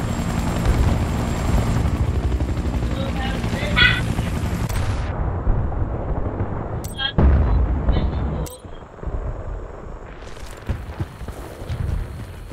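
Helicopter in Battlefield Bad Company 2, Vietnam map, thumping rotor drone that cuts in and out between bursts of gunfire and sharp explosions, with voices talking over the loud battle.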